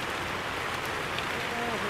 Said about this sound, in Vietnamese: Hiện tại trời mưa rất là to các bạn.